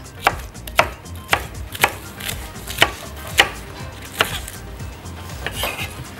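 A knife chops onions on a board for a salad, about a dozen sharp, evenly spaced knocks. Close and crisp, with no talking.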